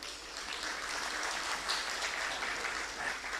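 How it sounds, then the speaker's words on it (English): Steady applause from an audience at a conference side event on misinformation, continuous moderate clapping for panelists that holds evenly throughout. "request all of us to appreciate the panelists with a loud of applause"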